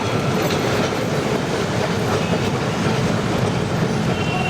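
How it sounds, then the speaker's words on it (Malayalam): Steady rumbling of a Kolkata tram rolling along tracks, heard from aboard, with continuous wheel clatter and broadband noise throughout, close and loud. "ഈ ട്രാമിൽ ഇങ്ങനെ സഞ്ചരിക്കുമ്പോൾ ഞാൻ ചിന്തിക്കുന്നത്"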